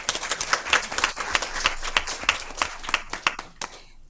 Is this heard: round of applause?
yes